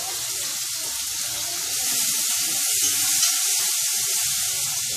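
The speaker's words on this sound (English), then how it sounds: "Burn the curry first, then I add the mango with a little scallion, garlic, thyme." Curry, then small mangoes with scallion, garlic and thyme, sizzle in a hot pan for a Jamaican-style curry mango, a steady broadband hiss holding level throughout with no talking.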